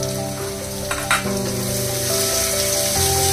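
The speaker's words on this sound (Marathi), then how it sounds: "कांदा भाजून झालाय, टमाटे टाकायचे आणि कोकम 2-3 घेतलं" Onion, tomato and kokum sizzling in a hot pan for prawn masala, a loud steady frying hiss with a brief stir partway through, no talk.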